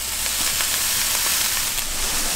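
Steak mince fries in a pan with a steady, dense, close sizzle, going crisp as it cooks, and no voices over it.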